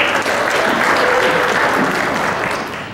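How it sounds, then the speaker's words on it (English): Steady audience clapping greets a math instructor presenting at an education session in Fort Wayne, holding at an even level before tapering off at the end. "I know y'all are clapping because y'all not ready for straight grades"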